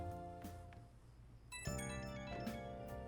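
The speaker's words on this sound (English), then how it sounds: "And here comes the phone call." A phone rings in the video game Persona 5 Royal. The ringtone is a soft, tonal electronic melody with bright chime-like notes that repeat over quiet game ambience.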